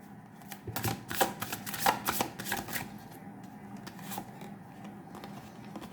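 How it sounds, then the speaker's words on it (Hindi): A new deck of oracle cards is shuffled close up in a quiet room, giving a run of quick riffling flutters and soft taps that are busiest early on and then thin out. "Okay, so for your guidance एक ओरेकल कार्ड्स निकाल देते हैं। It's a new deck."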